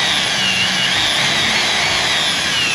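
Electric drill running on 220 volts from a Bluetti AC50B power station, a steady high-pitched whine held continuously at close range without talk.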